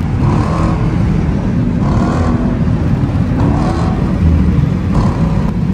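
A Dodge Challenger R/T engine drones loudly and steadily on a highway, with rising surges roughly every one and a half seconds as it pulls through gears.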